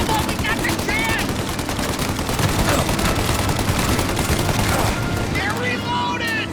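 Rapid gunfire in the video game Mafia: Definitive Edition, dense overlapping bursts and single cracks sounding loud and continuous, close up throughout.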